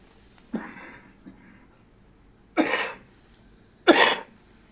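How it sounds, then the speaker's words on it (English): Three harsh coughs, one weak and two stronger, separated by pauses in a quiet room. "I'm going to cough"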